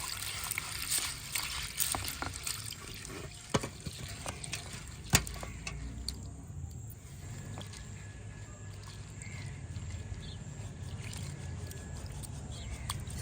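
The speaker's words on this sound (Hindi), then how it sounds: "इसको 1-2 पानी में डाल के ना अच्छे तरीके से धो लेते हैं ना।" Food being rinsed in a pot of water in a Pakistani village kitchen, with soft sloshing, stirring and trickling, punctuated by a few sharp knocks against the vessel; no talking.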